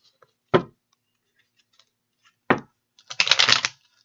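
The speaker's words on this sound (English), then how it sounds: "A few more shuffles." A deck of tarot cards shuffled by hand in a quiet room: two short crisp riffles, then a longer rapid flutter of cards snapping together, close and clear.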